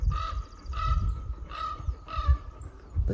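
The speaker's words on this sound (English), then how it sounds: "It sounds like it's having a full conversation in multiple tones with another crow" A crow caws repeatedly in a series of four evenly spaced, harsh calls, moderately close, with soft rustling and low background noise between them.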